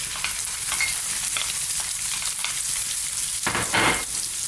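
Onions frying in hot oil infused with spices for a mixed vegetable Indian curry, a steady bright sizzling hiss with occasional stirring bursts swelling louder near the end.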